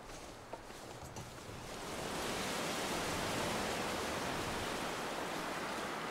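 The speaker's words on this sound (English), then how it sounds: "That wind, though." Howling wind across a frozen wilderness in the survival game The Long Dark, a broad rushing gust that builds after a couple of seconds and holds steady and loud, with no voices.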